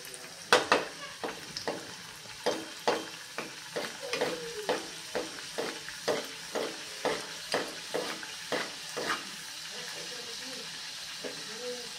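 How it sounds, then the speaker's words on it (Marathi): Bharad vada (coarse-ground lentil fritters) deep-fry one by one in a kadai of hot oil over medium heat, giving a close, hissing sizzle broken by a regular series of sharp taps and scrapes. "आता त्यामध्ये एक एक वडा आपण तळून घेऊयात छानपैकी"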